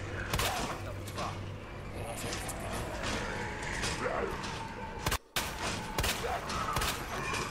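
Repeated gunfire blasting at zombies in the Resident Evil 2 demo, a dense continuous barrage of game shots and impacts with a brief cut near the end, under steady talk.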